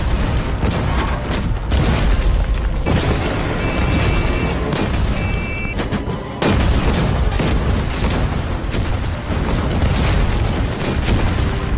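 Continuous heavy booming blasts of cannon fire, loud and dense, artillery explosions rumbling one after another with no pause.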